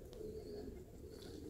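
Baku white pigeons coo softly outdoors, a faint low burbling call over quiet background noise.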